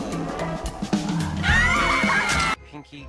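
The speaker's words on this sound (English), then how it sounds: "Pinky, that is a horse." Cartoon horse neighing, a loud, shrill whinny rising and wavering for about a second amid other cartoon sound effects, cut off abruptly near the end.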